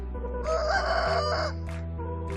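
A rooster crows loudly and close by, one long drawn-out call over a steady low hum, followed by a couple of short clucks from the flock.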